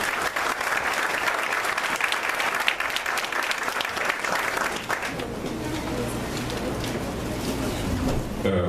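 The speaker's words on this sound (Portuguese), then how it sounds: "Gostaria, por favor, de convidar e pedir uma salva de palmas" A seminar audience on urban mobility applauds steadily, a thick wash of clapping that holds for about five seconds and then thins into softer scattered claps with room murmur.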